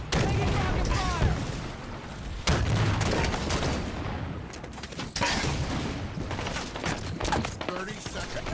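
Heavy weapons fire in Halo Infinite pounds away as dense, loud gunfire and booming blasts, with several sharp impacts standing out among constant battle noise, and a voice speaks over it in places.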